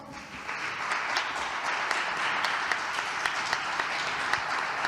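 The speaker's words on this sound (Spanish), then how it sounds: "Recibimos a Pablo con un fuerte aplauso." Steady audience applause welcoming a speaker at an international conference, with many hands clapping in a dense, even wash that swells in at the start and holds with no talking over it.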